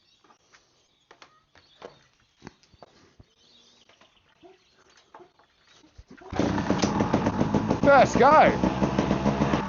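A two-stroke trials motorcycle running on castor oil is kicked over with choke on amid quiet outdoor sounds and birds, then fires up into a loud, rapid, popping idle with a few sharp revs, while a voice speaks briefly before it starts.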